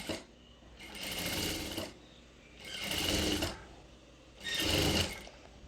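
A sewing machine stitches a palazzo pant seam in three steady whirring bursts with short pauses between, close and clear with no talk.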